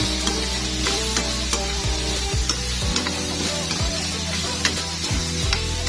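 Salagubang beetles fry in a pan with vinegar, giving a continuous loud sizzle with spattering crackles and repeated scraping of a spatula stirring them.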